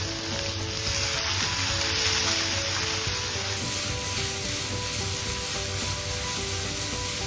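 Chopped onions sizzling steadily in a hot pan for a chicken roll filling, a continuous, close crackling fry with no pauses.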